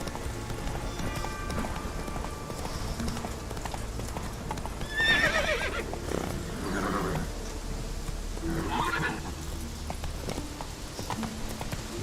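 Roach, Geralt's horse in The Witcher 3 video game, clip-clops steadily at close range and lets out several loud neighs and whinnies partway through.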